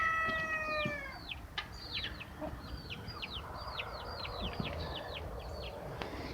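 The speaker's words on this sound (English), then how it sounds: "She's a good little chicken." A hen clucks in a farmyard, giving a run of short, repeated calls at moderate distance over a steady background hiss.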